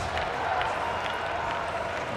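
Crowd at a rugby sevens match in Madrid applauds and cheers steadily, a dense, distant wash of clapping with crowd noise and a commentator talking over it.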